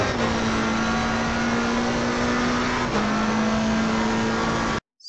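A McLaren 720 GT3 race car in Assetto Corsa accelerates hard, its engine holding a loud, steady drone that rises in pitch, with a brief dip as it shifts gear, then cuts off abruptly.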